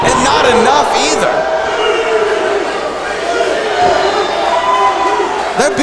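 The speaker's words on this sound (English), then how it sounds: "The crowd is riled up right now watching these two women go at it." A wrestling arena crowd roars and whoops during a women's match, loud and continuous, with rising shouts and cheers layered over a commentator talking throughout.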